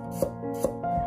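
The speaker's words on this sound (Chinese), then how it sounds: "把大蒜子切成薄片" Knife slicing garlic cloves into thin slices on a cutting board, with two sharp, evenly spaced chops standing out over a steady background hum, close and moderately loud.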